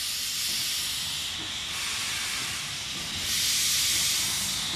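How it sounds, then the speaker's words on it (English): Steam locomotive on Indian Railways hissing steam in a loud, continuous broadband rush that swells louder toward the end, with no talk. "The steam locomotive looks fascinating, it sounds fascinating. It breathes out a lot of fascinating things also."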